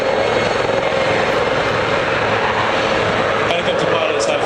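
A helicopter flying a carousel precision manoeuvre at the 2010 Cotswold Airshow, its loud, steady engine and rotor roar filling the scene continuously with broadband noise.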